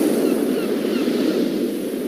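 Ocean waves wash steadily onto the beach at La Playa, a broad continuous surf roar with wind, close and even, with no distinct breaks between waves.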